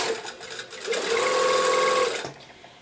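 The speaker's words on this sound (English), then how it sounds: "If it feels like you're sewing over multiple layers of fabric, you probably are." A sewing machine stitches a seam on a wrap dress in one short steady burst with a humming motor tone, close and loud, starting and stopping cleanly.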